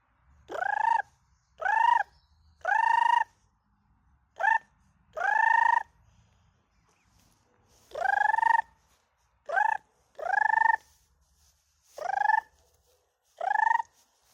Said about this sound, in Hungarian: Lehet, hogy meg tudom csinálni most, hogy így videó kedvéért a pulyka kiadja a pulyka hangot.